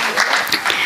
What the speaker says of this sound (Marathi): त्यांना टाळ्या देऊयात आणि त्यांना शुभेच्छा देऊयात